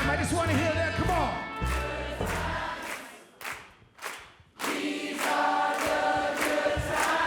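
A live concert audience sings along in unison to a rock song chorus, loud and reverberant, with a short dip mid-way before the crowd's voices swell back full.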